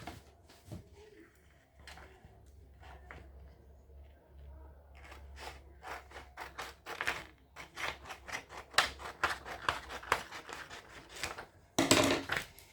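Scissors snip through heat transfer vinyl for a two-color t-shirt design, a run of sharp, close cuts that quicken in the second half, with a soft low hum beneath and a louder burst near the end.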